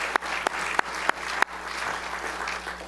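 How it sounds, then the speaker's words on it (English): An audience at a poetry and history talk claps for the New York State poet, starting with a few sharp, spaced claps that swell into continuous applause from a moderate-sized room. "we can give her a round of applause."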